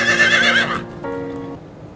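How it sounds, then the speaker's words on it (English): A horse neighs in a single loud, close whinny with a quavering high start that settles into a lower, fading tail. "A horse can neigh."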